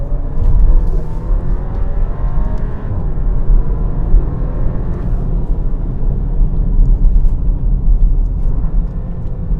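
A 2023 Porsche Macan SUV engine droning steadily while cornering at high speed, a loud, continuous low hum with rising and falling pitch mixed with road and wind noise from inside the cabin.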